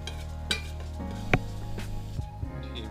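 Chopped ginger sizzles in canola oil in a pan over medium heat, a soft steady hiss broken by a few sharp clinks and scrapes of a utensil against the pan, close up with no voices.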